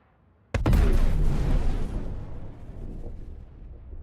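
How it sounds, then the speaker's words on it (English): A sudden loud blast in the Star Citizen space game opens after a brief near-silence, then rumbles and decays slowly into a long, lingering roar. "Did you hear that explosion?"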